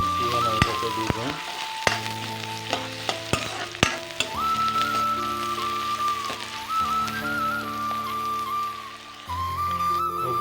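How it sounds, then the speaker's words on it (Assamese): Sliced onion sizzles and fries steadily in a hot pan as the base for a pork curry, with loud continuous crackling and a few sharp clanks of a utensil stirring, no talk. "পিঁয়াজটো অলপমান ভাজি ল'ম"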